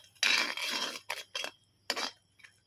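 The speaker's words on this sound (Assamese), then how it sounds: "অলপমান দি পেলাই ভালদৰে মই এতিয়া লৰাই দিম।" A utensil stirs and scrapes rice flour for pitha in a pan, giving a long scraping stroke and then several short separate scrapes, close and clear, with no talking.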